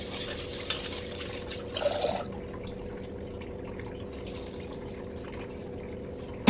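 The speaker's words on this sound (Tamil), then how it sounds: "கொஞ்சம் வாஷ் பண்ணிடுவோம்." Split moong dal lentils being rinsed in water make a soft swishing, splashing sound for about two seconds, then everything falls to a quiet background hum.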